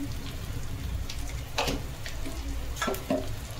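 Fish head frying with turmeric, salt, ginger paste and spices in a pan, a continuous close sizzle with a few brief stirring scrapes and clinks.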